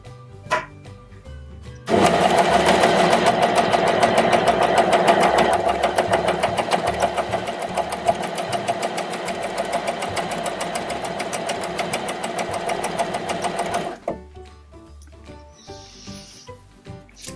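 A coverstitch machine stitches fabric binding in one continuous, loud, rapid mechanical run of about twelve seconds. Quieter handling noises come before and after.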